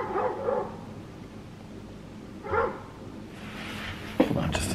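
Neighbor's dog barking outside in the front yard, several separate barks at moderate distance with quiet gaps between them, and a sharp knock near the end.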